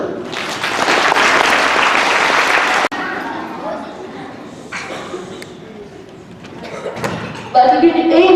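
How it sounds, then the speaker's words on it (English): Audience at an All Saints Day presentation breaking into loud, dense applause that fades into scattered claps, murmurs and chatter, with a thump and voices speaking near the end. "Big round of applause for Joe."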